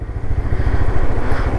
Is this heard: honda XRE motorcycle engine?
yes